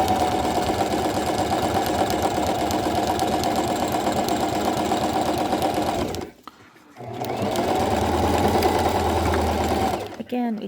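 A sewing machine stitches a French seam in a rapid, steady mechanical whir close by, pausing briefly midway before resuming, with a short stop near the end.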